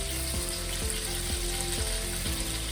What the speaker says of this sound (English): before I add the paste in, I'm going to go in with the mushrooms